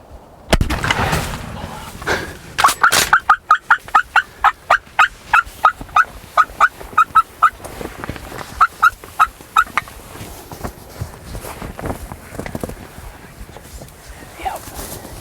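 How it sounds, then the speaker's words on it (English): A wild Midwest turkey tom gobbles in a rapid rattling burst outdoors, moderately close, while hunters rustle and murmur nearby. "Did he just gobble? I think he did."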